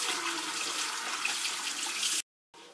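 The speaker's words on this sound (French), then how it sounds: "Donc là voilà, je rince." Water from a tap runs steadily and close as a liquid face mask is rinsed off, cutting out briefly near the end before resuming.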